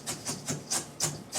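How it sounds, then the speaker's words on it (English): Cornflakes being crushed in a bowl with a whisk, a quick series of about six soft crunchy scrapes in a steady rhythm, close and quiet. "it's fairly simple just to crush them in the bowl like this with your whisk"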